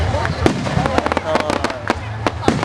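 Fireworks burst at a park firework show, a rapid string of loud sharp cracks and pops with a low rumble underneath, as people nearby talk and react.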